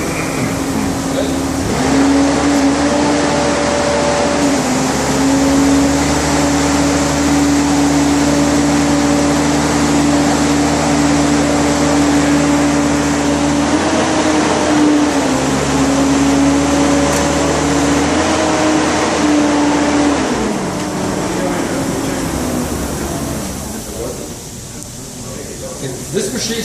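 An M20 excavator engine idles and then raises its revs on its own under hydraulic load, a loud steady droning with shifting engine tones throughout, with someone talking over it.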